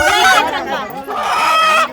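A rooster calls loudly and close by in two drawn-out bursts in a village setting, with people talking nearby.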